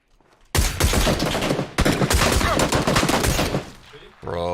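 Rapid close gunfire from an SLR with suppressor in PUBG, two long loud dense bursts of overlapping shots with a short gap between, then fading out as a tonal game sound comes in.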